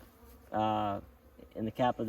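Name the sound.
honey bees buzzing at new hive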